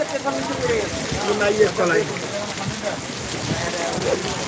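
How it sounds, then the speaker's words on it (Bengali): Steady rain patters down while gusts of wind blow through, and a person speaks faintly over the wet, hissing background. "দেখেন দর্শক বৃষ্টি হচ্ছে সাথে বাতাস"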